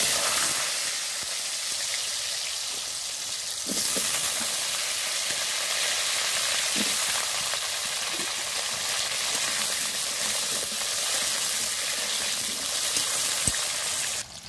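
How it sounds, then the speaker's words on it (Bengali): Potatoes fry in oil seasoned with salt and turmeric, giving a loud, continuous hissing sizzle close by that swells slightly after the first few seconds, with occasional faint taps and no voices. "এবার আলুগুলো ভালো করে ভেজে নেব"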